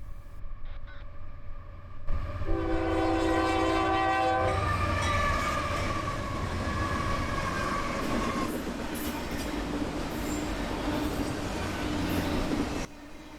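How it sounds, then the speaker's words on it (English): A Union Pacific freight train sounds its horn in a long salute as it passes, the chord blaring over a rising rumble, then steady wheel and wagon roar continues close by before cutting off. "The engineer driving the train gives us a horn salute as he passes."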